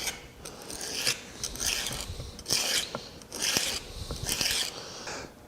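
Steel file or sharpening stroke rasping across the teeth of a veneer saw, five distinct passes in a steady rhythm, each a bright gritty scrape, close and moderately loud with no voices.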